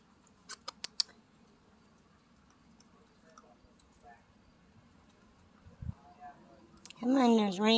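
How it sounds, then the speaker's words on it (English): Raindrops strike a camera in a few sharp, isolated ticks early on, then sparse faint taps in near silence before a voice starts speaking. "Raindrops are hitting the camera."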